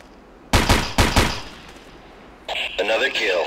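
Gunfire in the Ghost Recon video game: two sharp bursts of a few rapid loud shots each, followed by a quieter gap and then crackly radio-like game chatter.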